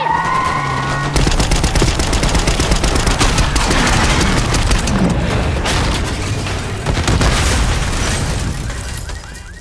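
Heavy gunfire in the Call of Duty Black Ops 6 campaign, sustained machine-gun bursts mixed with booming impacts and explosions, loud and close throughout, starting abruptly after a brief lull, with no speech.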